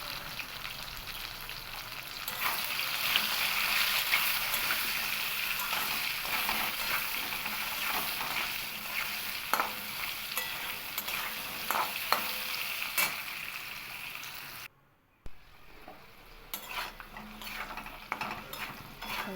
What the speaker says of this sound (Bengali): আমার আলু পেঁপেগুলো লাল লাল করে ভেজে নেওয়া হয়ে গেছে